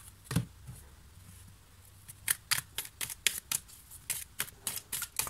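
Tarot cards being shuffled and drawn, heard as a quick run of crisp papery slaps and flicks that speed up into a rhythmic patter in the second half, close and fairly quiet with no talking.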